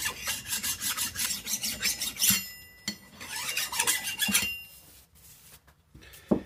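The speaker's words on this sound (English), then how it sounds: "So I'm just going to lightly run a file over it." A file is drawn lightly across the back of a ring gear during a Toyota E-locker differential rebuild. Close, rhythmic rasping strokes repeat evenly, then thin out and stop near the end.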